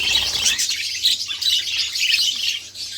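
Budgerigars chirp and twitter continuously inside a breeding box, a dense, bright chatter of overlapping calls close by with no talking.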